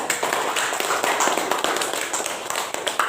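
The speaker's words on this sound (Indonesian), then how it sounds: "Kita kasih aplaus yang meriah kepada Dina" Classroom applause for a student's presentation, a dense patter of many hands clapping steadily at moderate loudness for a few seconds with no talk over it.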